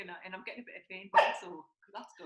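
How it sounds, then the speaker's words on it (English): A pet dog named Barry gives a short, loud bark burst in the middle of a home conversation, with people talking before and after it. "Sorry, that's our dog."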